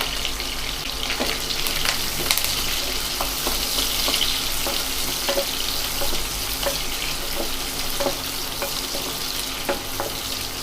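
Onions, green chilies and plenty of curry leaves fry in a pan for a Nagercoil-style fish curry, a close, steady sizzle with frequent sharp scrapes and taps of a stirring spoon.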